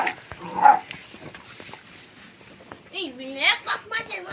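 A dog on a small farm kept alongside cows and a rooster gives a couple of short whining, whimpering yelps, fairly close and moderately loud, with quiet gaps between them.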